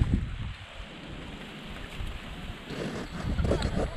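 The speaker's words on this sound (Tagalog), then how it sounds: "Kaya lang talagang napakalakas na talaga ng hangin dito" Strong wind buffets an outdoor spot near water, producing loud rumbling gusts that swell and fade against the microphone, strongest at the start and again near the end.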